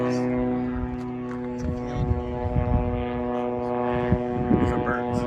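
A drone flies overhead outdoors, its steady motor hum holding a constant pitch for the whole stretch, with people talking and faint birdsong over it.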